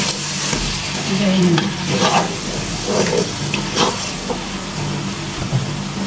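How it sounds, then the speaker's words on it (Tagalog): Blended tomatoes get stirred into a pot of chicken biryani, a loud, close, continuous churning sizzle with thick bubbling and scraping throughout. "ilalagay ko na itong aking blend na tomato. 3 tomato yan. Haluin lang natin siya ng haluin."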